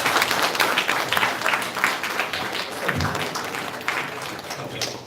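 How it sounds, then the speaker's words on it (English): A conference hall audience at a 2018 SAARC CXO summit applauds a panel, a dense, sustained wash of many hands clapping that swells and holds, with some voices mixed in. "a round of applause for the wonderful panel"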